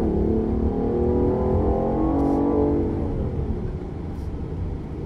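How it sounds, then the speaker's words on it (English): A BMW i8 hybrid sports car engine revs up with a rising exhaust note, then the drone eases off into a steadier hum close by. "Have a little amplification of the motor noise, but at least this time it's not synthesized, it's actual motor noise."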